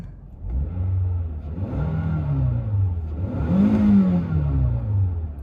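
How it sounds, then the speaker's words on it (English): A car engine revved up and down in a few rising and falling swells, loud and close, climbing to its highest pitch near the end, with no talking. "I have a fan who had asked and requested that I rev the engine on my car. So I'm going to do that now."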